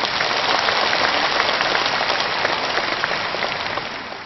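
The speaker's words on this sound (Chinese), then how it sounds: "让我们全场和我们视听剧场的所有的佛友们以热烈的掌声再一次对他们表示感谢" Audience at a Buddhist dharma assembly in Hong Kong giving warm, sustained applause, a dense, even wash of many hands clapping that holds steady then begins to taper off toward the end.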